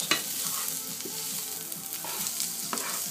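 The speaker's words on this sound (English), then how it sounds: "I'm just frying my onions" Onions fry in a pan with a steady, close sizzle, broken by several scraping stirs against the pan, no voices present.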